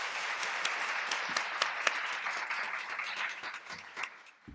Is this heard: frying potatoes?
no